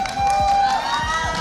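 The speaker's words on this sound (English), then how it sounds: "Can we get an applause for R7?" A large arena crowd at an esports world championship cheers and applauds, a loud, sustained wash of noise under a faint tonal hum.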